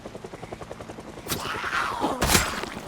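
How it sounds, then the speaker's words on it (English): Helicopter sound bite with a rhythmic rotor chop throughout, building into louder sweeping whooshes and a sharp burst near the end, no talking. "I was looking for a soundbite to use for helicopter"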